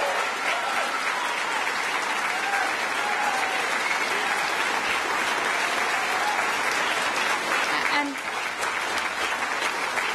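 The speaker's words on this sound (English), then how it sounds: "let's give him a clap." Audience applause at a Greens election campaign launch speech, sustained and dense clapping from a large crowd filling the whole stretch, easing slightly near the end.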